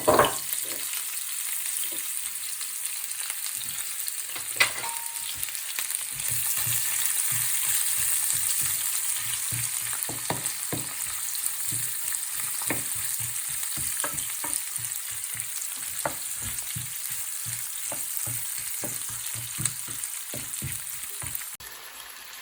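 Venison pieces fry in a pan with cloves and small whole onions, a steady close sizzle running throughout with frequent clicks and scrapes of stirring.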